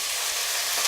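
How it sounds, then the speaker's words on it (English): Bright, steady sizzle of rice frying in hot oil, a continuous crackling hiss with no voices. "So, you can tell that's sizzling,"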